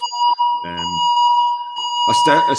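A steady electronic alarm tone sounds without a break in the background while someone speaks over it, the beeping continuing under the talk.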